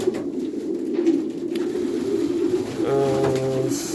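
Pigeons coo in a crowded breeding loft being prepared for the nesting season, a steady low rolling murmur of many birds close by, with a clearer sustained call rising near the end.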